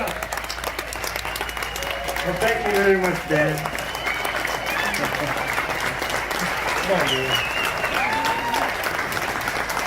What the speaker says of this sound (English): Stand up, round of applause.